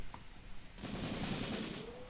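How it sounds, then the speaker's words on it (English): Faint bursts of rapid gunfire from the video game Graviteam Tactics: Mius Front, a quick volley of shots crackling at a distance over a low background rumble. "Oh, some gunshots going off."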